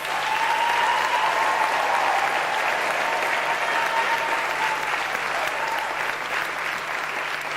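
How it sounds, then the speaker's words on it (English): A large audience at a university graduation ceremony gives sustained, dense applause, a loud continuous wash of clapping with a faint crowd murmur and a tonal ring running underneath. "Can we give them another round of applause?"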